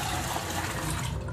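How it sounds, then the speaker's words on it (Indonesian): Water poured out of a container after soaking a sulcata tortoise, a short continuous splashing gush of liquid, close and fairly loud, with no talk. "Kita buang airnya."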